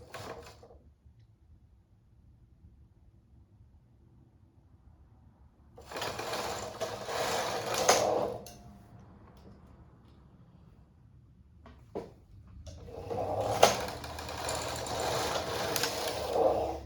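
A knitting machine carriage is pushed across the needle bed while shaping a 1x1 rib, giving two separate bursts of whirring, clattering mechanical noise, each a couple of seconds long, with a sharp click between them and quiet gaps around.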